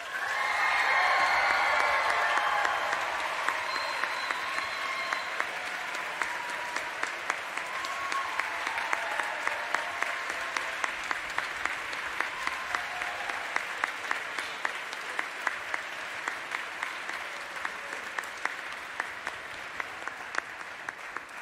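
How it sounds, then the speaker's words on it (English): Sustained audience applause at a classical honors concert for a youth music competition winner, starting as a dense, loud burst of clapping, then continuing for about twenty seconds as steadier, evenly spaced claps with no talk. "please, one more round of applause"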